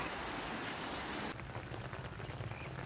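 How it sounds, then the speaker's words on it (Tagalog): Steady rain falling outdoors in a rural province setting, a broad even hiss of drops with a faint patter, with no voices. "No sunshine today because it's raining here."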